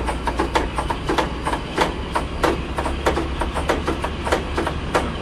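Cab ride aboard the D1062 diesel locomotive: a steady low engine drone runs beneath a regular clickety-clack of wheels over rail joints, close and continuous throughout.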